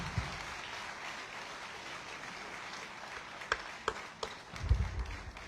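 Applause from the audience at a Foreign Service Institute graduation ceremony, a sustained soft wash of clapping with a few louder individual claps near the end, moderately distant and without speech.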